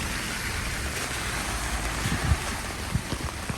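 Steady rain falls outdoors on a walk to the church in Medjugorje, a constant broadband hiss with a few soft bumps and splashes near the end and no talking.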